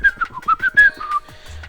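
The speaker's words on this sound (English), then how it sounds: "Whistles." Someone whistles a short tune of clear, pitched notes. The notes come in quick separate bursts and then stop, heard alone and close.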